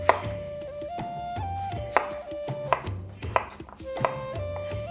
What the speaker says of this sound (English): Chop the apple just into squares.